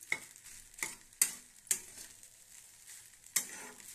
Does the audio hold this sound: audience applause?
no